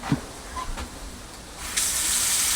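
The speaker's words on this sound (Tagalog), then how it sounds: "So, tingnan natin yung lakas ng tubig." A faucet turns on and water gushes into a campsite sink, a steady hissing stream that starts partway through after a few small clunks.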